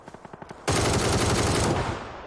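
An LR rifle fires in a video game: a quick run of sharp shots, then a loud, sustained burst of rapid gunfire that slowly fades, with no talk over it.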